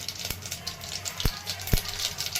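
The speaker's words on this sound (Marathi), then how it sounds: "मोहरी छान तडतडलेली आहे" Mustard seeds crackling in hot oil inside a pressure cooker, a soft continuous sizzle broken by a few sharp pops.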